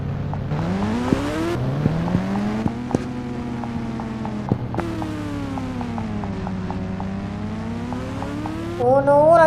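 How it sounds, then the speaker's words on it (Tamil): A motorbike engine hums and revs while riding, its pitch rising and falling in long smooth sweeps, with small clicks and knocks and a louder burst of revving near the end. "பைக் வந்துருச்சு கைஸ், வாங்க போய்க்கலாம்."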